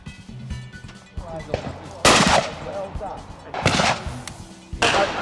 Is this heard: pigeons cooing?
no